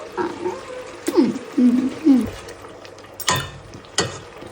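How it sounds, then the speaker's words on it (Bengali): Sour yogurt being stirred into a cooking dish in a pot: soft scraping and clinks of a utensil against the pan, with a few brief utensil knocks later, close and moderate, alongside some voice sounds. "এখন একটু নেড়ে নিছি"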